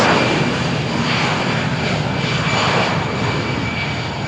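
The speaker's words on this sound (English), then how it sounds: "EasyJet fly is cleared for takeoff." An easyJet airliner accelerates down runway 13 at Malaga Airport on a stormy morning, its engines a loud, sustained roar with a constant broadband rush throughout, without speech.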